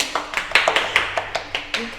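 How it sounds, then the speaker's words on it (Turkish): A small group claps unevenly at a birthday celebration, about a dozen sharp hand claps in a loose rhythm, close and moderately loud, with voices murmuring underneath. "Hadi alkışlayın."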